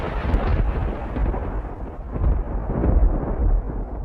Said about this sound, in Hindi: अचानक से बहुत तेज बारिश शुरू हो गई।